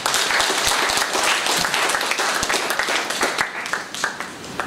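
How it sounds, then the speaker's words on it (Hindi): Loud applause for the guests seated on stage at a ceremony, a full, dense crowd clapping with distinct individual claps standing out, steady throughout and without speech. "एक बार मंचासीन हमारे सभी अतिथियों के लिए जोरदार ताली।"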